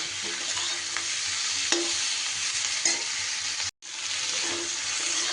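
Vegetables and chapila fish curry sizzle in a pan while being stirred, a steady loud frying hiss with occasional scrapes, briefly cut off for an instant before resuming.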